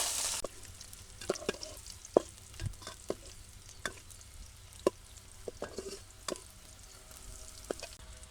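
Chopped garlic, onion and chili fry together in a pan, giving a soft, steady sizzle broken by repeated sharp clinks and scrapes of a spoon stirring, close by and moderately quiet.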